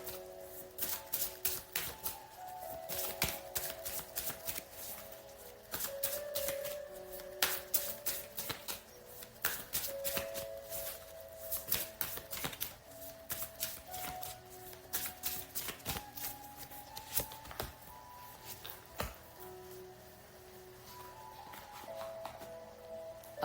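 Tarot-style love cards being shuffled up close, a long series of crisp rapid riffles and taps in uneven bursts with short pauses between, and no speech.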